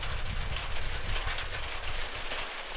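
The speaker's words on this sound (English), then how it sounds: "Are you videoing the rain?" Steady rain hissing and pattering on surfaces nearby, a dense even wash of sound with no voices.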